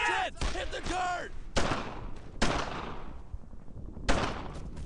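Gunfire in the video game Brothers in Arms: Earned in Blood, several sharp shots spaced across the scene, loud and close, with a voice speaking briefly near the start.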